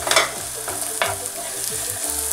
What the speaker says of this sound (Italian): è arrivato il momento di andare ad aggiungere gli asparagi tagliati a pezzettini piccolini